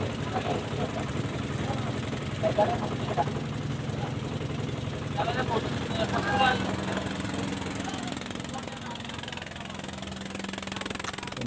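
A motor boat engine on a river trip near Sada Pathor drones steadily and moderately loud throughout, with people talking over it.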